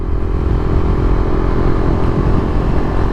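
A 2022 Husqvarna Vitpilen 401 motorcycle pulls hard on the throttle, its engine a loud, steady, close roar mixed with wind rush throughout.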